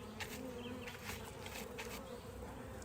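Honey bees buzzing around an opened hive during a June beekeeping inspection, a steady low drone of many wings, close and moderately faint, with no talk.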